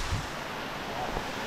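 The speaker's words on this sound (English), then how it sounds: "Beautiful creek." A Blue Ridge mountain stream with creek water flowing as a steady, broad rushing wash, constant and moderately loud, with no clear talking over it.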